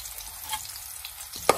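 Ginger sizzles in oil in a frying pan in a home kitchen, a steady soft crackle and hiss close by, with a sharp clack of a utensil near the end.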